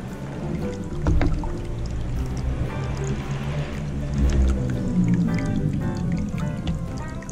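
Water from a small pump-driven garden waterfall tumbles into a little artificial pond, giving a steady close trickling and splashing wash that runs without break and alone.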